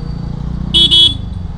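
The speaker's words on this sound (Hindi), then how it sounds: "और again we are in traffic." Car horns honk twice in quick succession, loud and close, over a steady hum of city road traffic heard from a scooter.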